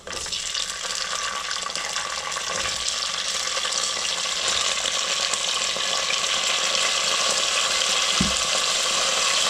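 Potatoes hitting hot oil with red chilies in a pan give a steady, close hiss and sizzle that runs throughout, with a soft clunk of a utensil near the end.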